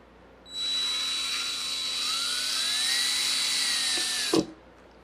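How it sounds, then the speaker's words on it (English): A drill bit bores through the plastic diffuser fascia of a C7 Corvette Z06 in one steady, high whine of about four seconds, ending abruptly with a short clunk as it punches through. "you only want to drill just through the plastic"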